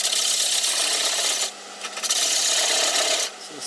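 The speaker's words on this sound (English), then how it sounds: "I'm just going to use a spindle gouge basically to blend this into a point." A spindle gouge cutting a spinning wooden piece on a lathe, a loud, close, rasping scrape, steady with brief pauses as the tool lifts off and returns, no talking.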